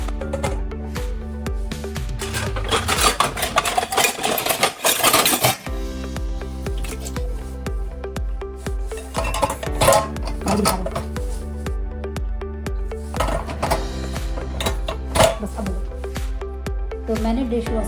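Dishes and pans are set into a dishwasher rack, giving scattered clinks, clatters and scraping knocks, with a louder cluster of handling noise partway through.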